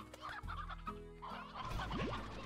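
A chicken in the Slime Rancher video game clucks a few times in quick, choppy bursts, close and moderately loud, with no one talking.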